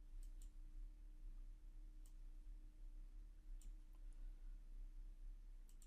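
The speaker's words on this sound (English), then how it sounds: "I'm just left clicking on it, moving it and releasing my mouse button." Sharp computer mouse button clicks, a few scattered presses with gaps between them, close and clear over a low steady hum, as elements are clicked, dragged and released on screen.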